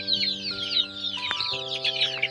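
Young hens clucking and chirping continuously in a coop as they drink water, close and busy, with a steady electrical hum running underneath.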